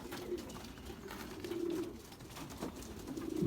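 Young Belgian racing pigeons coo softly in a loft, low repeated throaty calls overlapping close by against a faint background.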